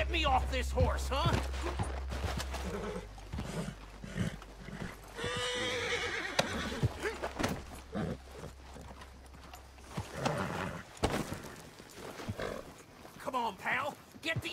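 A horse in the Red Dead Redemption 2 video game whinnies and snorts with hooves clip-clopping close by, while game voices talk over it.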